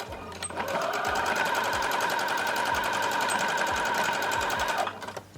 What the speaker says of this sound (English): What you want to do is sew just across here. And make sure you also back stitch as well.